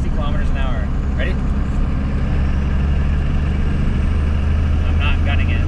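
Continuous low diesel rumble from a first-generation Cummins pickup fitted with a BigHead wastegate actuator, building under load as it pulls from about 1200 RPM at 60 km/h, with someone talking over it.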